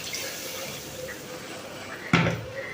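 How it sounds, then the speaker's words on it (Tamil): Milk is poured into a pot of prawn and drumstick white curry, a steady soft trickle followed by a louder splash near the end. "இனி வந்து இதுக்கு நாங்கள் பால் விட்டு திருப்பியும் இதை கொதிக்க விட வேணும்."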